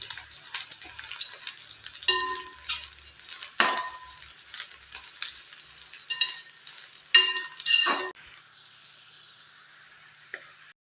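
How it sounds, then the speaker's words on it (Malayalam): Dried shrimp frying in about four teaspoons of oil for a raw mango pickle: a light, crackling sizzle broken by several sharp scraping stirs of a spatula against the pan. "ഇനി ഞാൻ കുറച്ച് എണ്ണ ഇതിലോട്ട് ഒഴിച്ചിട്ട് നല്ലോണം ഒന്ന് വറുത്തെടുക്കണം"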